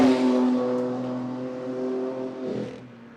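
An HSV race car idles and rolls into the pit bay during a club race, its engine giving a steady droning hum that eases off as it slows, with a brief rise near the end; no one talks.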